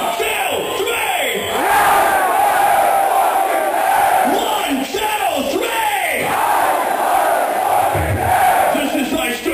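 A packed live concert crowd for a metal band in Costa Rica yells and roars in unison, loud massed shouting with rhythmic chant-like surges filling the whole span, no clear single voice on top.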